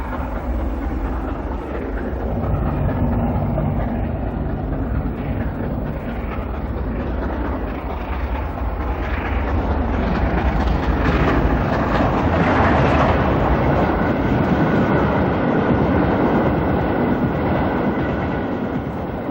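The streamlined LNER A4 steam locomotive Mallard, restored to working order, runs past with a loud, continuous rumble and rolling rail clatter that swells slightly in the middle, with no voices.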